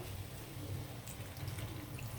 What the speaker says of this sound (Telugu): ఇప్పుడు మనం కూరలకు వాటర్ వేద్దాము